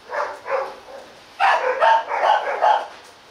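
Village dogs, one male and three females, bark in a burst of loud, close, overlapping barks and yips, starting with two separate barks and then a rapid cluster.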